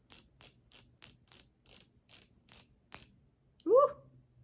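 A twist-up makeup stick is cranked in nine quick, evenly spaced clicks, close and soft, followed by a short voiced exclamation.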